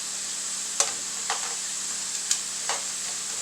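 Burger patties fry on high heat in a pan with a steady, bright sizzle, broken by a few sharp ticks and scrapes as they are turned or stirred.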